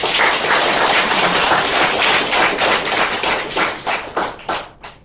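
A church congregation bursts into dense, loud applause that holds steady, then breaks up into scattered claps and fades out toward the end.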